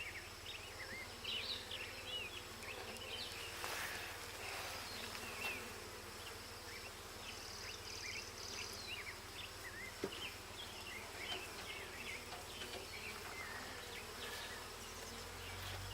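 Honeybees swarm around an open backyard homestead hive during inspection, a dense continuous buzzing close to the listener with individual bees zipping past, and a few faint clicks and handling sounds underneath.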